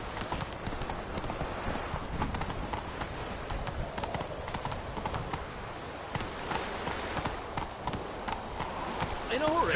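Geralt's horse Roach gallops in The Witcher 3, a steady rapid clip-clop of hooves running continuously up close, with a voice talking over the hoofbeats.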